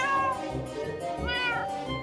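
An aggressive cat in a Minecraft animation meows repeatedly, drawn-out and fairly close, with no speech over it.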